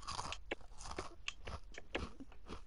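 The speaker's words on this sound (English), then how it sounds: "Wow, that crunch was loud." Loud, close crunching and chewing as a streamer eats a snack during a Minecraft session, a run of sharp bites and crackly munches over a steady low background hum.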